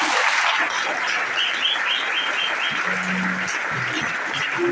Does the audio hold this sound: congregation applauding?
yes